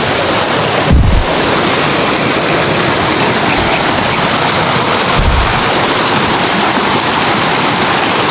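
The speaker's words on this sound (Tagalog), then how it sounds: "yung agos ng tubig sobrang napakalakas" A strong, fast river current roars loud and constant at close range, a steady broadband rush of water with a couple of low thumps from wind or handling against the phone microphone.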